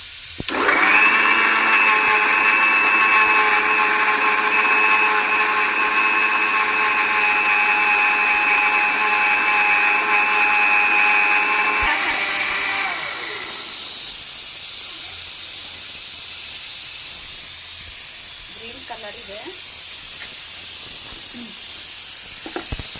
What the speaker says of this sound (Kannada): ಇಲ್ಲಿ ವಿಷಲ್ ಬರ್ತಾ ಇದೆ ಬರಲಿ ಇನ್ನೂ ಎರಡೇ ವಿಷಲ್ ಬಂದಿರೋದು